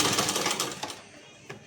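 A sewing machine stitches a topstitch along the lining of an inside-out blouse: a close burst of rapid mechanical chatter that slows and fades out, followed by a couple of sharp clicks.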